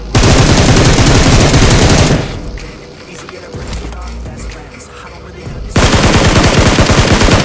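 Sustained automatic gunfire in the mobile battle royale game PUBG Mobile: a loud, dense burst for about two seconds, a quieter stretch, then another loud continuous burst.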